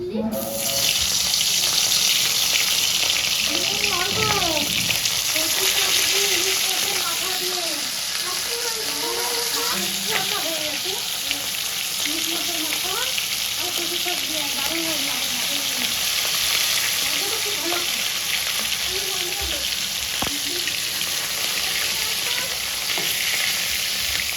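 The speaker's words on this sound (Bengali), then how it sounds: "এবার ইলিশ মাছের মাথাটা দিয়ে দেবো।" A hilsa fish head fries with taro greens in a pan, giving a loud, continuous sizzle with stirring and scraping noises, while faint voices murmur in the background throughout.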